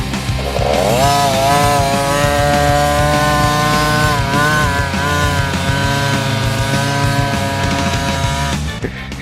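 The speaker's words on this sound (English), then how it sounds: "It's like a chainsaw. Sounds just like a chainsaw." A loud, buzzing two-stroke dirt bike engine revving close by on grass, its high whine rising and falling steadily, rasping much like a chainsaw, then cutting off near the end.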